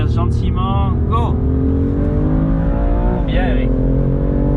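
A BMW M2 CS accelerates on the Castellet race track, its engine note climbing steadily and loud throughout, with a voice talking over it from inside the car.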